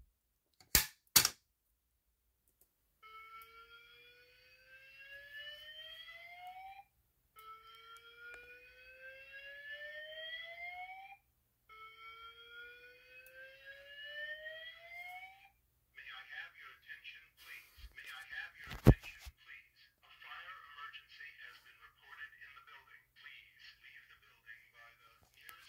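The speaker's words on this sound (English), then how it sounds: "Siemens voice evacuation message." A Siemens fire alarm voice evacuation system sounds, with two sharp clicks, then three rising whoop tones and a spoken announcement, all fairly faint in an otherwise quiet room.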